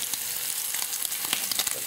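Cooked pasta, reheated in a microwave, sizzles in a frying pan on a stove, giving a constant close hiss broken by small crackles and light scraping.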